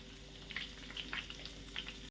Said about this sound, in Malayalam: കാട അങ്ങനെ ഫ്രൈ ആയിരിക്കുകയാണ്.